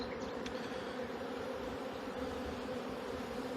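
Agitated honeybees buzzing at a hive during an acacia honey harvest: a continuous low droning hum from many bees, fairly close and steady, with a few brief higher whines of individual bees passing, and no voices.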